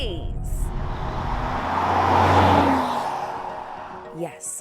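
A Maserati Grecale Trofeo accelerates hard, its engine note swelling and rising before easing through paddle-shift upshifts, heard from inside the cabin with a brief shift blip near the end.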